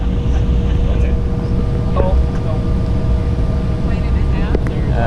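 A jet airliner rolls toward the runway after a long tarmac delay, heard as a steady low cabin rumble and whine throughout, with faint thumps and clicks over the drone.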